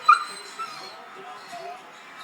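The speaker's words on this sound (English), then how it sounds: "Shogun, speak. Woof" A dog lets out one short, sharp yip on command during trick training, loud and close at the start, then only faint low sounds follow.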